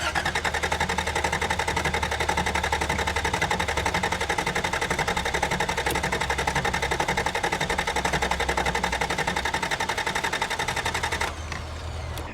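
An old cheap pickup truck cranks on its starter after the key is turned, giving a fast, steady, loud mechanical chugging that runs without pause before stopping abruptly near the end.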